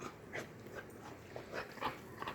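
Several dogs whining and whimpering at supper time, a run of thin, high, uneven cries repeated over a couple of seconds at moderate loudness, with no talk.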